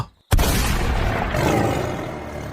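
A sudden loud gunshot boom after a brief silence, in a forest, followed by a sustained roaring rumble that slowly fades.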